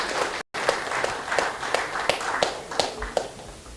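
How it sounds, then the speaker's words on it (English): An audience at a national banking quiz final applauds the competing teams, moderate clapping with distinct individual claps standing out, fairly close, steady for a few seconds. "ladies and gentlemen, please keep clapping for them"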